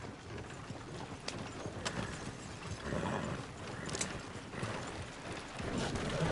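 Horse hooves clip-clop steadily at a moderate distance over a continuous low rumble, with creaking, ratcheting mechanical noises mixed in, like tack or a wagon.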